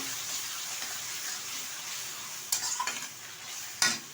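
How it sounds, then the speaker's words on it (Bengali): Ground spice paste thinned with a splash of water fries in a pan for a country chicken and potato curry, a steady close sizzle punctuated by a few scraping spoon stirs. "ভালোভাবে একটু কষিয়ে নেব"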